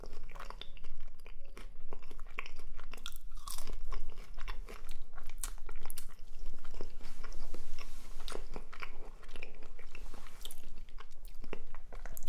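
Five Guys french fries eaten close to the mic, with continuous crunchy bites and wet chewing that repeat through the whole stretch and have no talk.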